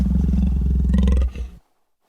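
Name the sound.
lion roaring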